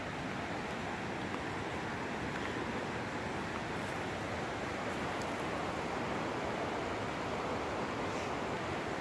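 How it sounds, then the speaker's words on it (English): The Tuolumne River flows near a campground, a steady, loud broadband rush of water that continues without a break. "That is the Tuolumne River."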